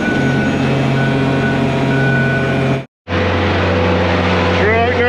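A concrete truck at a large slab pour with a laser screed drones loudly up close, its engine hum interrupted by a brief cut, with a reversing-beep tone and talk under the rumble.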